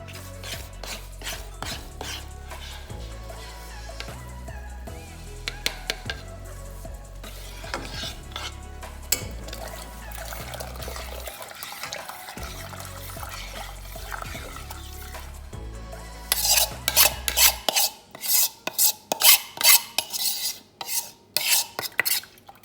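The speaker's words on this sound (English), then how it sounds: "So while you're pouring it in, you mix, because you don't want any clumps." Cornmeal poured into a pot of coconut milk and stirred for porridge, giving soft scraping and sloshing stir sounds that grow into louder, rhythmic spoon strokes against the pot near the end.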